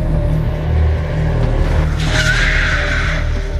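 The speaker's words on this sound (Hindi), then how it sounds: "गाड़ी के बिल्कुल सामने जानवर जैसा कुछ निकला और उसे बचाने की कोशिश में गाड़ी सड़क से उतरकर" A car skids off the road into fields in a dramatized horror story, a loud sustained roar of engine and tire noise with a rising screech in the second half, heard alone.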